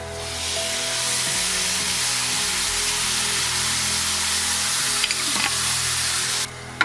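Marinara sauce hits a hot pan of tempeh and sizzles loudly and steadily, with a broad frying hiss that continues throughout and a few utensil clinks near the end.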